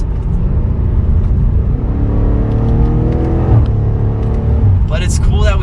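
Audi RS6 Avant wagon accelerating hard, a loud continuous engine roar rising steadily in pitch through the gears, closing with a burst of crackling exhaust pops.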